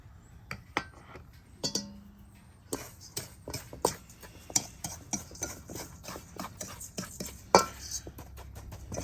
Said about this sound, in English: Really want to mash that seasoning, those breadcrumbs and all that stuff in there.